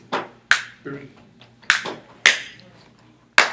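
Hand claps land on the beat, five sharp close claps at uneven spacing, with a voice speaking between them.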